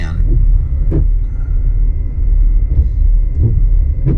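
Seawater surging in around a parked van on a beach as the tide comes in, a steady low rumble with a few brief sloshing swells, under faint background noise.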